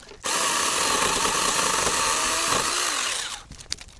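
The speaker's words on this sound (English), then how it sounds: "When I get into the bigger branches that I don't have my big Corona loppers, I've been using a hand chainsaw." A small battery hand chainsaw cutting through a chestnut tree branch in an orchard, a loud continuous buzzing whine for about three seconds that drops off as the cut finishes, followed by a few light clicks.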